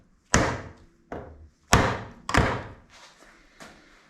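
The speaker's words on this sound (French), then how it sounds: "Je vais donc prendre un marteau anti-rebond" Anti-rebound hammer blows on a motorcycle engine casing during separation of the engine block, five or six sharp dull knocks at uneven intervals, close and loud, the later ones softer.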